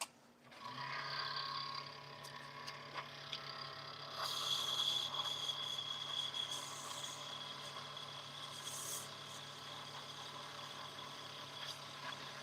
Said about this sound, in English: I'm going to put a little bit of sandpaper on this